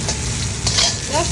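Potatoes boiled about 80 percent frying in a pan, a loud close sizzle with quick stirring scrapes, no talk.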